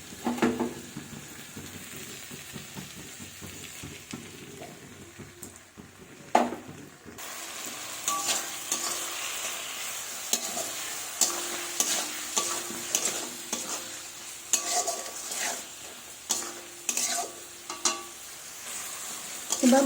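Spice paste of ground dried chilli, cumin, ginger and coriander is stir-fried with potatoes and tomatoes for a rui fish curry. A quieter start gives way to louder sizzling and repeated clattering, scraping strokes of a spatula in the pan.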